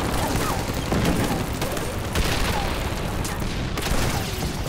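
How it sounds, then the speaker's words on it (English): Dense, continuous night battle noise from American tanks in the Pacific: rumbling booms and crackling bursts of gunfire overlapping steadily, loud and chaotic with no pauses. "Explosions and shell bursts illuminate the battlefield."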